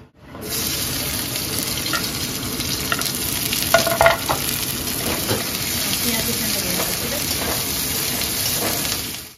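Cardamom and cinnamon fry as whole spices in hot oil in a home kitchen, giving a steady close sizzle and crackle with a few sharper clinks partway through.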